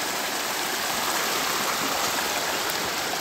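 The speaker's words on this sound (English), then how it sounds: "A creek." Steady, dense rush of a creek flowing beside a Yosemite hiking trail, a continuous close wash of water with no breaks and no voices.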